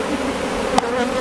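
Close, loud, continuous buzzing of a honeybee swarm shaken down in front of a hive, with a short sharp tap partway through.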